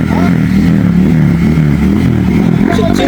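A motorcycle with a loud, noisy exhaust revs close by, a harsh rumbling engine roar that rises and falls steadily for a few seconds without pause.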